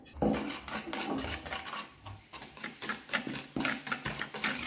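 Three eggs, sugar and vanilla sugar being mixed in a bowl, with steady scraping and clinking of a utensil against the bowl in irregular strokes, fairly close and continuous.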